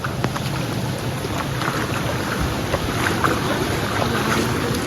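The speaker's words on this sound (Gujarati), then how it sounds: "અત્યારે વરસાદ ચાલુ જ છે" Steady rain pours down along a highway near a river, a dense even hiss with a few dull thumps, and no voices.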